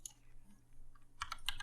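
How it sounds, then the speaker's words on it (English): Brief bursts of typing on a computer keyboard, a close cluster of clicks and clacks sitting over a low steady hum. "Typing."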